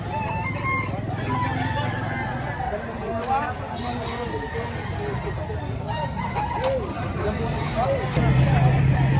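Chickens cluck and a rooster crows amid steady crowd chatter and bustle at a chicken market in Lipa, Batangas, with people talking nearby throughout.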